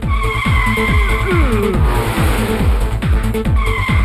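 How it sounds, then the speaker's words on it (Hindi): A cartoon car brakes hard and skids into a turn, with a loud tire squeal that sweeps in pitch over a busy pulsing engine and animated score. "तेजी से ब्रेक मारने की वजह से गाड़ी टर्न हो गई।"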